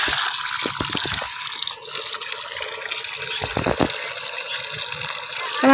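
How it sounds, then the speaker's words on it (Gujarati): Water pours and splashes onto trees being watered outdoors in a Gujarat village, a steady, fairly close gushing flow with some trickling and splattering, with no speech. "હાલો આપણે આ ઝાડવાને બધાને પાણી પાઈ દેવી છે"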